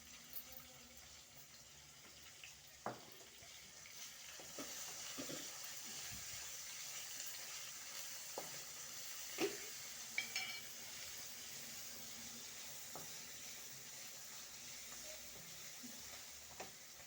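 Onion frying in a pan with hing, a soft steady sizzle with occasional sharper crackles and pops, close and without talk.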